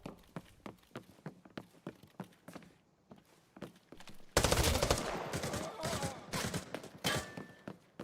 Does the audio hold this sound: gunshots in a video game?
yes